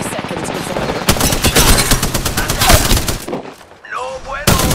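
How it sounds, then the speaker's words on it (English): Gunfire in the battle royale game Apex Legends, a loud sustained burst of rapid automatic shots that drops off briefly before a final crack, with in-game chatter and effects mixed in. "I'm under fire"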